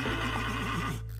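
A horse whinnies loudly and close, a single long wavering neigh that rises and falls before cutting off, heard alone with no talk.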